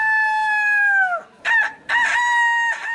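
A voice imitating a rooster's morning crow as a street performance: a long sustained call that drops in pitch, followed by two shorter crowing bursts, loud and close with no other sound.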